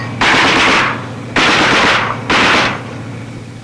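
Three long, loud bursts of .50 caliber machine gun fire from armored personnel carriers, each a dense rapid string of shots that ends in a ringing decay, with short gaps between the bursts.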